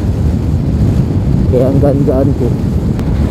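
Strong wind buffets the microphone in a steady, loud roar outdoors on a road near Gimba, Nueva Ecija, while someone speaks briefly over it.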